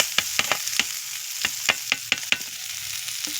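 Mixed vegetables for sabudana pulao fry in a kadai over tempered spices, a steady close sizzle broken by repeated sharp scrapes and knocks of a spatula stirring them.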